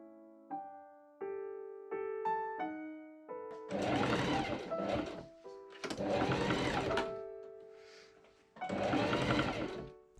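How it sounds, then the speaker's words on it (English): A sewing machine stitches ribbon trim along the back yoke seam of an 1890s Victorian shirtwaist. Several short bursts come first, then longer, louder runs of rapid mechanical stitching, close and with no talk. "I machine sew ribbon trim along the back yoke seam line."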